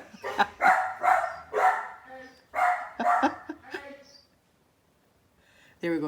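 A dog barks in several loud bursts, then the sound fades into quiet before another short bark at the end.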